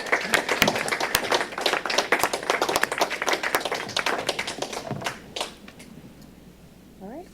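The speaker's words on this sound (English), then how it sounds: "how about a big round of applause for all our way to go winners again?" Applause for award winners at a county commissioners meeting comes as sharp, distinct hand claps from a modest group, loud and irregular at first, thinning out and tapering to a few scattered claps and quiet room noise.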